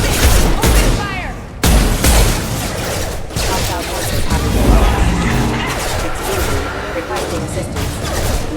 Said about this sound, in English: Alpha Squad, open fire!